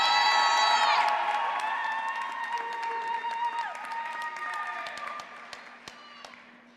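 Applause and cheering from a commencement audience at Muskingum University congratulating graduates, a dense wash of clapping with whoops and shouts that gradually thins out, under sustained musical tones.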